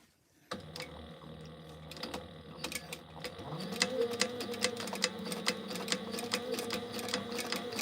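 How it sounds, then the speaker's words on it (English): A sewing machine top stitching a cargo belt bag at a 5 stitch length, starting with a motor whir and then running on as a fast, even needle rattle at close range. "we're just gonna top stitch all the way around, back stitch at the beginning"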